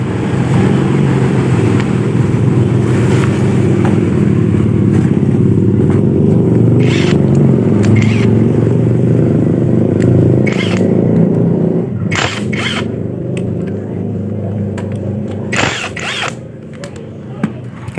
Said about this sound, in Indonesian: Kita tarik gas dan kita turunkan.